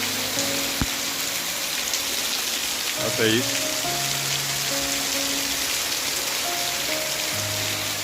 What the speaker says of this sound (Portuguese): E isso aqui é uma chuva de verdade